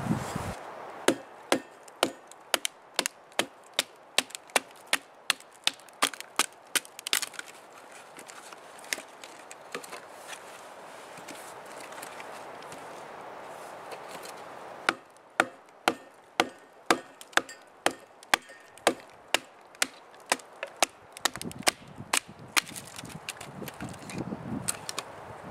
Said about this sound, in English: So I'm just starting to cut up some firewood, because it is getting colder and I would like to have a fire tonight.